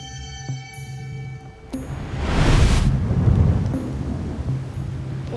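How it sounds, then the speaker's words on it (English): A deep rumble of thunder from an approaching storm on a remote island swells after a quieter opening, rolling loudly for a few seconds before easing into a lingering low roar, with no talking. "can you hear that thunder?"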